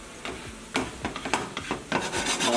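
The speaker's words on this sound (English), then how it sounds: "Hear that sizzle?" Onions with pepper and garlic sizzle in a hot pan, a continuous hiss broken by scraping strokes as the mixture is stirred, close and fairly loud.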